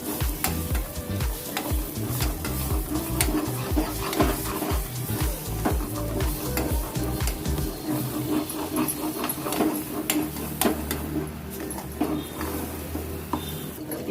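Brinjal stuffing fries in a spoonful of butter in a pan while being stirred, giving a steady sizzle with repeated scraping strokes of the spoon throughout, close and fairly loud, with no talking.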